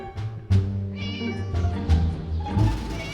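Several loud, drawn-out cat meows from the video game Scary Teacher follow one another, each one wavering and whiny, close up with nothing else underneath.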